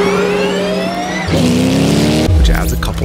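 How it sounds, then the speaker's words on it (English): Cadillac Le Mans race car with a V8 launching from a standstill with a dumped clutch, its engine roaring loud and close, then tires squealing and spinning as the revs climb and shift, with a voice talking over it. "Cadillac tried to start out dumping the V8's clutch, and well, that run went up in smoke"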